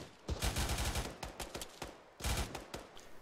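Machine gun fire in the military shooter game Arma 3 comes in rapid bursts, two long rattling strings of shots separated by a short pause, moderately distant and without any talk over it.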